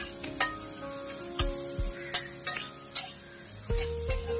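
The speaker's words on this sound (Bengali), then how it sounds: "পেঁয়াজ রসুন আর লঙ্কা একটু ভাজা ভাজা হলে এর মধ্যে আমি দিয়ে দেবো চিংড়ি মাছগুলো" Onion, garlic and green chili frying in a pan for a prawn dish, giving a steady soft sizzle broken by several sharp scraping stirs and clinks of a spoon against the pan, close and without talk.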